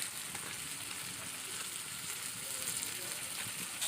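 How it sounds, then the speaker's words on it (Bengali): Large fish pieces fry in hot oil with a steady, even crackling sizzle, close and fairly quiet, without pauses. "দেখুন আমার কিন্তু মাছ ভাজাও হয়ে গেল।"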